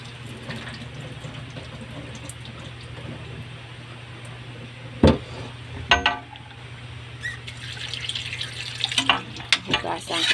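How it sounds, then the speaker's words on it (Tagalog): Cooking water being poured out of a pot into a kitchen sink, a faint steady splash under a low hum, with a few sharp metallic clinks and knocks toward the end. "Ngayon, itatapon ko yung tubig niya."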